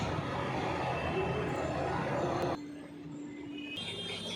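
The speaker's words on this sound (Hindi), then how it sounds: "और आ गई यहाँ पे हमारी मेट्रो।" A metro train arriving at a station: a steady, loud rumble of the train rolling in, then a sudden drop to quieter station hum with faint tones after it stops.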